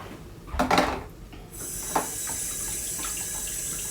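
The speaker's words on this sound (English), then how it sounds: "So I'm just going to rinse that under the tap." Running water from a kitchen tap rinses a cooked chicken breast at a sink, a steady hiss of flow starting partway in and continuing evenly, with a couple of brief clatters of handling before it.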